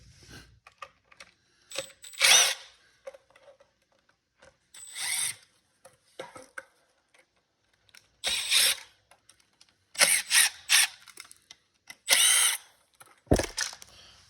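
Screws backed out of the rear housing of a Ryobi string trimmer power head with a T20 bit, short bursts of close power-driver whirring with ratcheting clicks, separated by quiet gaps, no voices.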